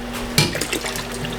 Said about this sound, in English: So we'll just top up the water until it covers